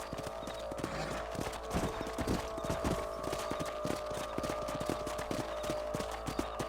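Horse hooves clip-clop steadily at a walking pace in Red Dead Redemption, a continuous rhythmic clatter of close, fairly loud steps with no talk over them.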